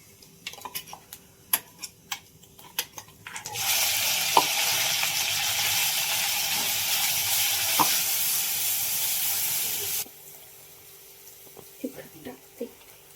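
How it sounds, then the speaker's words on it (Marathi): Vegetable tempering hits hot oil with a sudden loud, steady sizzle that runs for about six seconds, then cuts off; light kitchen clinks and knocks come before and after. "तेल तापले, भाजी फोडणी टाकावी"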